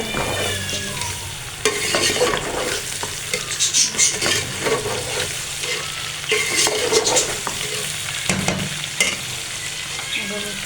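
Masala spices frying and being stirred in a pan for an Arabi dish, a steady sizzle throughout with repeated scraping strokes of the spoon close up, no voices.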